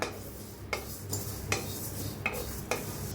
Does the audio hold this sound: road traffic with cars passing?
no